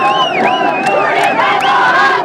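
A large outdoor protest crowd in Vikasnagar, Jaunsar-Bawar, Uttarakhand, roaring with sustained shouts and rising chant-like cries, loud and dense throughout.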